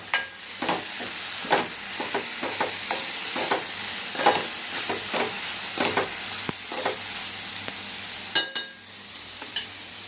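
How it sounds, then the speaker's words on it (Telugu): Eggplant pieces frying with onions in a pan give a steady close sizzle, with repeated scraping stir strokes throughout and no talking. "ఫ్రై అయిన తర్వాత వంకాయ ముక్కలు వేసుకోవాలి."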